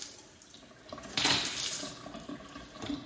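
Hot water running from a newly installed Kohler Avail 8-inch spread bathroom faucet, a faint steady splash into the sink that swells louder for a moment, then settles back to a soft trickle.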